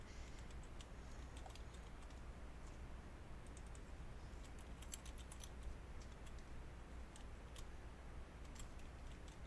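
Steady typing on a computer keyboard in a spreadsheet, heard as quick, light key clicks in short bursts over a constant background hum, very quiet and close.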